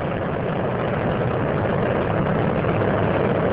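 Space Shuttle Columbia's three liquid-fuel main engines roar during the STS-107 launch, a dense, steady rumble with no pauses or voices.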